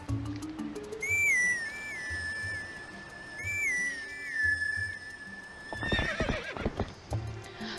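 A horse in the video game Zelda: Twilight Princess neighs twice in clear, high whinnies over a low game soundscape, followed by a burst of hoof clatter and movement, without any speech.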